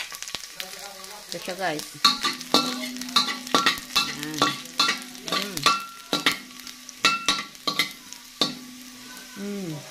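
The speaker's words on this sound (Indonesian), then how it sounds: "lagay na natin yung bawang o garlic" Garlic sizzles in hot oil in a pan while a utensil stirs and scrapes, producing repeated close clinks and scrapes over a steady frying hiss; someone speaks briefly.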